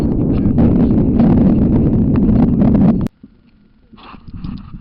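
Strong wind roars and buffets the microphone out on a frozen Lake Sullivan during ice fishing, a loud steady rush that cuts off abruptly after about three seconds, leaving a much quieter stretch with a faint gust returning.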